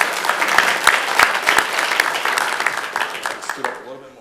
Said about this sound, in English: About a round of applause for Daniel and James